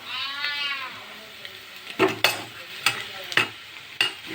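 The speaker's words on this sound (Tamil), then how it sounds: "எல்லாமே எண்ணெயில் போட்டு நல்லா வறுத்துட்டோம்" Onions and curry leaves frying in oil for idli upma give a steady sizzle at first, then a ladle scrapes and stirs the pan in several sharp strokes, close and moderately loud, with no talking.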